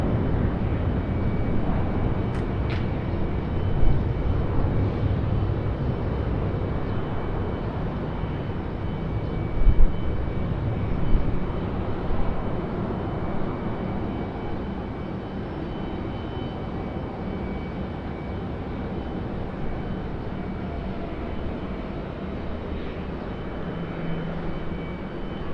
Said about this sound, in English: Such a great sounding departure.